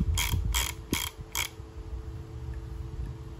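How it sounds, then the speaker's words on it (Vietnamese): A Daiwa Kix Freams fishing reel's anti-reverse clicker ratchets in four quick, evenly spaced bursts of sharp clicking, close up and alone, followed by quiet handling. "Đây là tiếng lưỡi gà của máy."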